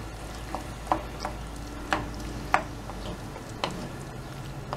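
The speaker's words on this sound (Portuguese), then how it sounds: "vamos agora estar a mexer aqui até ele fritar aqui um pouco, ficar mais mais molinho ainda" Beans frying in a frying pan on a stove, a low steady sizzle under repeated scraping clicks of a utensil stirring at irregular intervals, close and fairly quiet, with no talking.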